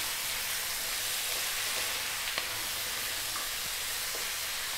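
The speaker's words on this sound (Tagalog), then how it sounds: "Haluin ko lang sandali bago tayo mag-add ng liquid." Chicken wings with fresh chili and onion sizzle steadily in a hot pan, a broad, even frying hiss with a few faint scrapes and clicks of stirring, with no talking.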